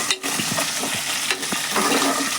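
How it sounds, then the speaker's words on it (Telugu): A spatula stirs boti pieces with a little fresh coriander in a sizzling pan over a medium flame. Repeated scraping strokes ride over a steady frying hiss, close by, with no talking. "ఇప్పుడు వేగుతున్న దాంట్లో లైట్గా కొత్తిమీర వేసుకోవాలి. దాన్ని కూడా మీడియం ఫ్లేమ్లో పెట్టుకొని మిక్స్ చేయాలి."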